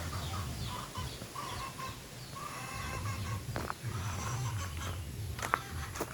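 Chickens cluck intermittently, soft and somewhat distant, over a low rumbling background with a few sharper clicks and knocks.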